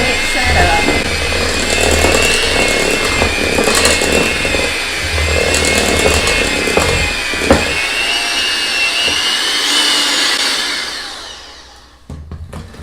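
Electric hand mixer running steadily as it beats thick peanut butter cookie dough in a bowl, a loud continuous whirring motor that holds for about ten seconds, then winds down and stops.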